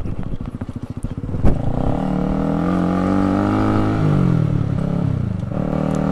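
A Honda CBR 150R motorcycle engine accelerating, close and loud, its revs climbing steadily in a continuous rising whine after a brief clatter at the start.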